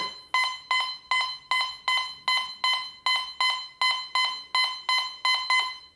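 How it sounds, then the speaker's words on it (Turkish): A gold metal detector sounds a loud, steady run of about thirteen identical electronic beeps, evenly spaced, as a piece of copper is passed in front of it. "Bu bakır parçayı metal dedektörümüzün önünden geçirdiğimizde"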